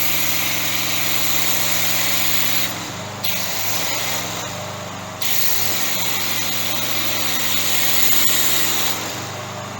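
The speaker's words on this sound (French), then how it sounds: "Alors c'est parti, nous allons asperger le véhicule de mousse." A pressure washer sprays foam onto a vehicle, a loud steady hiss over a running engine's hum, with the spray stopping briefly twice and then resuming.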